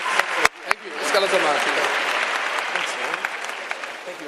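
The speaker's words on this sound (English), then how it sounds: "Give them a round of applause, please." An audience at an event in Botswana applauds young people, opening with a few sharp nearby claps that swell into a sustained wash of clapping that slowly thins out.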